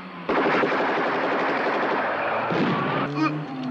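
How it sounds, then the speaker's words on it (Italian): Rapid gunfire from a soldier's weapon in a 1982 film, a dense burst of rattling automatic shots that stays loud for about three seconds before breaking into a few separate cracks, with a voice faintly underneath. "Spara 10 metri avanti alla macchina."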